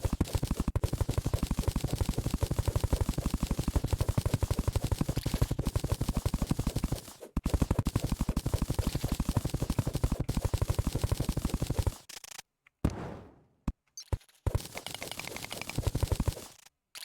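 Rapid, steady pickaxe strikes from mining in the video game Terraria, a dense machine-gun-like clatter that runs loud for about twelve seconds with a brief gap, then breaks into scattered, sparser hits toward the end.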